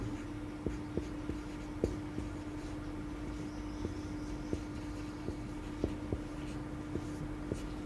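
A formula is written on a board during a chemistry lesson, heard as faint, irregular taps and scratches from the writing tool over a steady low electrical hum, with no talking.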